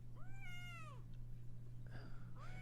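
A kitten meows twice, a long rising-and-falling cry followed by a shorter one, both close and clear over a steady low electrical hum.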